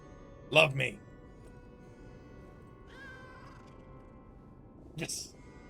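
A cat meows in the video game Lies of P: a loud, bright meow near the start, a softer drawn-out call midway and another sharp meow near the end, all over a steady low ambient hum.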